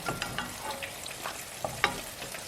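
Pieces of chicken stir-fry in a pan, crackling and sizzling with scattered sharp pops and scraping stirs, close and fairly quiet, with no talking.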